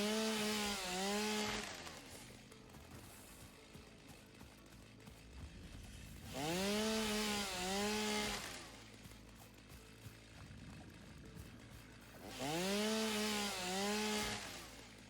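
Chainsaw cutting trees in the video game Satisfactory: three loud revving bursts spaced several seconds apart, each with a rising and falling engine whine, separated by quieter idling.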